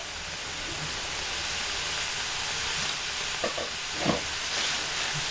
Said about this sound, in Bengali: এই সমস্ত মশলা দিয়ে মোচা খুব ভালো করে কষিয়ে নেব